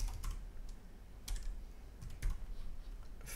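Someone types a command on a computer keyboard while working in Rhino 3D software, producing quiet, irregular clusters of close, soft key clicks and taps with no talking.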